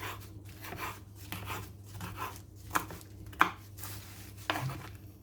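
Knife chopping Chinese cabbage and other leafy greens on a cutting board, a few sharp irregular knocks against a steady low background hum, close and fairly quiet.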